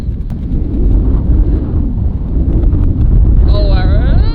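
Howling wind buffets the microphone on a golf course, a loud continuous low roar that carries throughout, with people talking faintly underneath.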